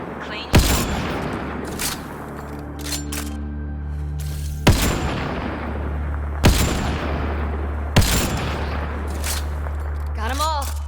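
Several loud, sharp gunshot blasts ring out at irregular intervals in the sci-fi shooter Mass Effect Andromeda, each followed by a ringing tail over a steady low hum of game music and ambience.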